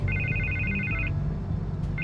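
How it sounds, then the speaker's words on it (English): A telephone rings in the Batman The Telltale Series video game, a trilling electronic ring that sounds for about a second, stops, then starts again over a low ambient hum. "I can't get the phone to stop ringing."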